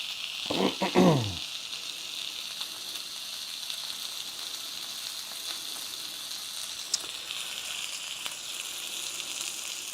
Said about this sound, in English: Hopefully the sizzling isn't causing too much noise for you guys.